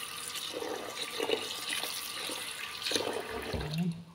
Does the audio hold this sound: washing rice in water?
yes